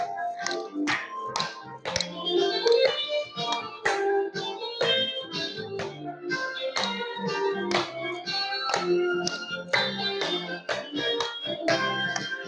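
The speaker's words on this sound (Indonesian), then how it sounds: "Tepuk tangan." Hand clapping in an Indonesian classroom lesson, a fairly loud run of sharp, irregular claps and taps continuing steadily without talk.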